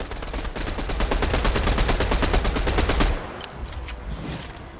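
Rapid automatic gunfire in the video game Fortnite rattles in a fast, even burst for about three seconds, then drops to a few scattered, quieter shots over background game noise.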